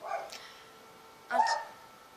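A dog barks twice indoors, two short separated barks at moderate distance with quiet room tone between them and no talking.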